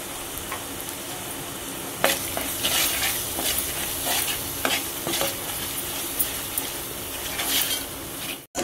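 Masala of red chilli powder roasting in oil for mutton rassa sizzles loudly and steadily in a pan, with repeated spatula stirring and scraping close up.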